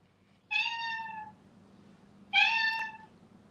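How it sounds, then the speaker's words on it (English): A stray cat meows twice, each a drawn-out, clear, tonal call close to the microphone, separated by a short quiet pause, with only faint background hum between them. "Sorry, my stray cat."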